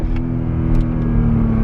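A 2019 Porsche Cayenne Hybrid accelerates hard with a steady, dense engine and road rumble heard from inside the cabin, a sustained drone with a strong low hum throughout.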